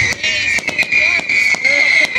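Fireworks burst at a Fourth of July farm fireworks show, a rapid string of sharp crackling pops over a steady high whistling hiss, loud and fairly close.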